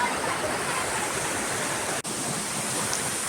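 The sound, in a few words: waterfall crashing through rocks, Jharkhand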